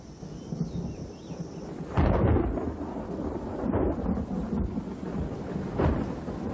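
A thunderstorm with steady rain and sharp thunder claps, one loud crack near the start followed by further rumbles and another burst near the end, loud and close without speech.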